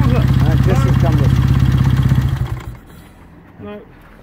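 A 1956 Ariel KH Fieldmaster 500cc motorcycle engine idles close by with a steady, loud thump for a couple of seconds, then cuts out, leaving quiet background.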